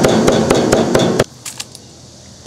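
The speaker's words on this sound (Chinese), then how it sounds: "剁点糍粑辣椒" A cleaver rapidly chops ciba chili paste on a board, a fast, even run of loud, close thwacks that stops abruptly halfway, followed by a few softer, scattered knocks in a quiet kitchen.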